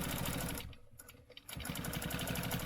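A sewing machine stitching along a quilting stencil line runs in rapid, even bursts of needle clatter, pauses briefly, then resumes. It is close and loud, with no talking.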